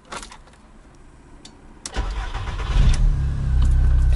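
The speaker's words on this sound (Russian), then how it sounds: "Все, он завелся прям легко." A Volkswagen Golf 3 that had been parked for two weeks starts up: a quiet cabin and faint clicks, then the starter cranks briefly, the engine catches and settles into a loud, steady idle with no talking.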